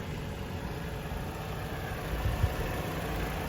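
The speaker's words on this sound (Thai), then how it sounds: "เดี๋ยวได้ฟังเสียงเครื่องกันสักนิดนึง" A 2010 Toyota Altis 2.0G with a Dual VVT-i engine idling quietly and steadily, a low even hum with a slight bump in rumble near the end, no talking.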